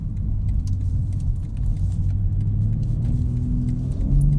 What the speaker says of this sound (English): we're gonna do a little acceleration pull here